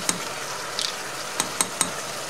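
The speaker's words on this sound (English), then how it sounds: "Now we will stir it until they all amalgamate and become one" Spoon stirring peppers and potatoes with red wine vinegar in a pan for pepperonata, a few quiet scraping strokes and light taps against the pan over a soft background sizzle.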